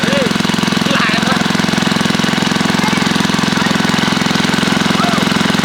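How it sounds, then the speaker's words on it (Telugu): A water pump motor by a canal runs steadily after starting, a loud, close, rapid mechanical chugging with a constant low throb, while a voice speaks faintly over it. "అది వేసి మోటార్ అయితే స్టార్ట్ అయిపోయింది ఫ్రెండ్స్"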